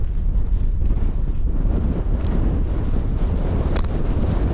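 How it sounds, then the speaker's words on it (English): Strong wind roars across a hilltop cairn in the Scottish Borders, buffeting the microphone with a loud, continuous rumble and no talk. "And it's still blowing a hoolie."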